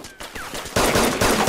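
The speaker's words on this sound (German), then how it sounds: "Wer schießt denn da so?" Bursts of rapid gunfire crackle in quick succession, growing louder toward the end, like an automatic weapon in the video game DayZ Standalone.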